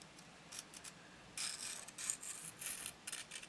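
A knife blade scrapes across a small whetstone mounted on a bracket, in short bursts of gritty rasping strokes with brief pauses between, close but quiet.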